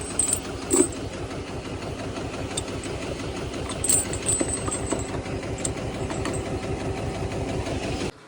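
A tractor engine running steadily at idle, a low rhythmic chugging throughout with a few faint clicks and knocks.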